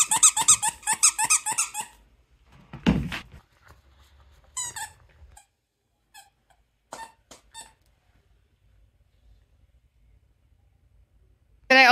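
A small pumpkin-shaped squeaky dog toy is squeezed in a quick burst of several squeaks, then gives scattered single squeaks with quiet gaps between them, close to the listener.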